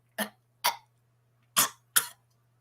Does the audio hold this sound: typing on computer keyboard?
no